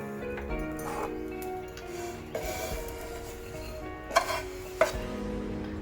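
Semolina (rava) is stirred and lightly roasted in a pan, giving soft scraping and scratching with a few sharper clinks of the spoon against the metal, quiet and close, with no voice.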